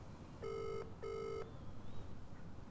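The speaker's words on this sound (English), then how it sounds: "so I am just going to phone him" Ringback tone on an outgoing mobile call to a UK number: two steady buzzing rings in quick succession, fairly clear over a faint background hiss, with no talking.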